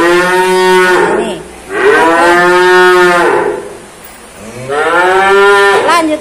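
A Limousin cow at a cattle market gives three loud, drawn-out moos close to the microphone, separated by short pauses, with no talking.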